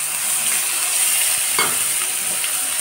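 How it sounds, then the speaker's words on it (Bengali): Onion paste hits hot oil already tempered with bay leaves and cumin for a Bengali prawn and potato curry, giving a steady close sizzle with a brief stirring clatter midway. "দিয়ে আমি এই পেঁয়াজ বাটাটা তেলের মধ্যে দিয়ে দেব।"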